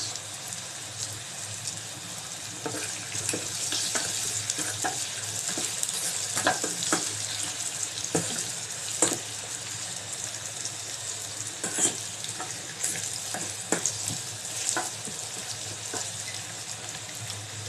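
Cardamom pods frying in a pan for chicken biryani, a continuous close sizzle broken by sharp crackles and pops, with occasional stirring scrapes.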